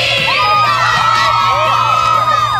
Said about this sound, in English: the home crowd cheering on their team